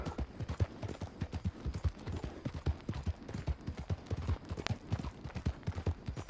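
Horse hooves gallop in Red Dead Redemption 2 Online, a steady rapid clip-clop rhythm of close, distinct hoofbeats continuing throughout at moderate loudness.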